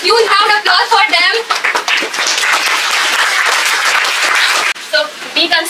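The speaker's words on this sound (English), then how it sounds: "I give you just a huge round of applause for them" A spoken-English class in Hazaribagh breaks into loud, dense applause lasting a few seconds, with a voice talking just before the clapping starts and again as it fades.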